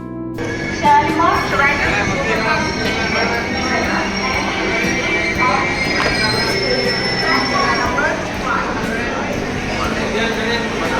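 A train rumbles at Thrissur station platform in Kerala with squealing metal wheels and clanks, while people talk loudly nearby.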